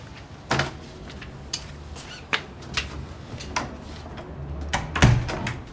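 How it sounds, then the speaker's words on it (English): An indoor door opened near a lift, a series of sharp clicks and thuds from the handle and latch, spread across several seconds with a fuller knock toward the end. "I'll get the door."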